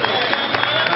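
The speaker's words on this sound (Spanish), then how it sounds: "Un fuerte aplauso" Applause for the winner of the first Villa de Larraga duathlon in Navarra, a dense, steady wash of clapping from an outdoor crowd that fills the whole moment at an even loudness.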